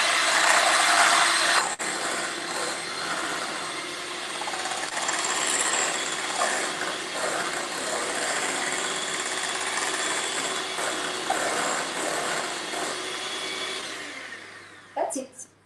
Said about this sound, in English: beat the sugar and the eggs very quickly, so either by using a hand mixer or just with a whisk